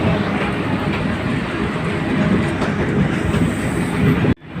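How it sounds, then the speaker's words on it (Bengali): A passenger train from Dhaka rumbles past close by at Rajbari, Bangladesh, loud and steady, with rhythmic clickety-clack of wheels on the rails, then it cuts off abruptly. "দেখছেন ট্রেনটি রয়েছে"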